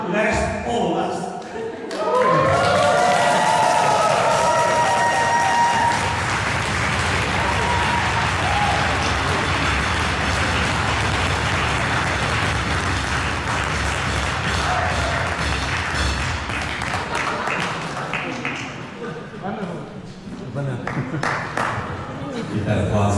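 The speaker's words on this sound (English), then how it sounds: "Keep that applause going." Sustained applause fills a wedding reception at The Olana venue, a dense wash of many hands clapping at once with voices and cheers mixed in, holding steady for about twenty seconds before tapering.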